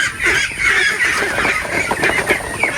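A dense flock of young duck ducklings peeps and chatters continuously after a night of heavy rain, close and fairly loud with no talking.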